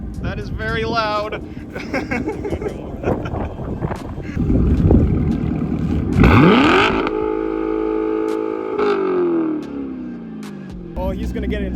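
A Chevrolet Corvette with a new exhaust revving hard, a loud rumbling roar that swells into a rising rev and then winds down, close by, with wind noise on the microphone and people talking.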